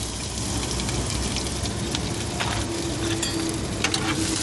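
Onions and peppers sautéing in hot olive oil in a heated pan, a dense close sizzle with crackling pops and occasional stirring scrapes, continuous and without talk.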